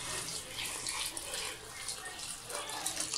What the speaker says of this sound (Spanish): El consomé de pollo que teníamos reservado se va directamente